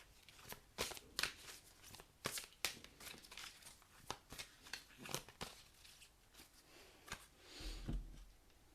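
Chakra oracle cards are handled and shuffled up close, soft repeated flicks and slaps of card stock in an uneven rhythm, with a brief rustle near the end and no talking.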